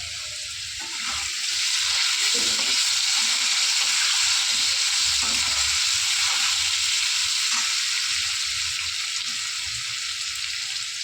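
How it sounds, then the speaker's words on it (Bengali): Cardamom pods, cloves and cinnamon fry in hot oil with a steady, close sizzle that rises after the first second and continues evenly, broken by light stirring scrapes. "দেখো এর মধ্যে আমি দিয়ে দিচ্ছি 2টো এলাচ, তিনটে এলাচ, 2টো লবঙ্গ আর দারচিনি"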